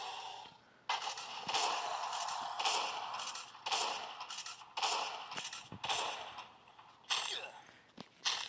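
Shotgun blasts in the video game Last Day on Earth while fighting the Blind One in a hell-mode bunker: a steady series of about eight loud booming shots roughly a second apart over constant game noise.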